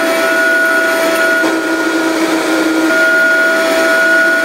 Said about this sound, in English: so I'm gonna use my blender to mix